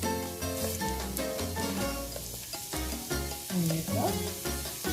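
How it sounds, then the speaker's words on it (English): Garlic, shallots and green onions sizzle and crackle in a hot pan while being stirred, a steady close frying hiss with intermittent scraping, set under background music. "So now the garlic is toasting."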